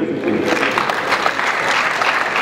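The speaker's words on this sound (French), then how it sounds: "On applaudit très fort pour Cardinal, s'il te plaît." Steady applause from a comedy show audience at the Palais des Congrès fills the whole stretch, dense and fairly loud, with a bit of talking mixed in near the start.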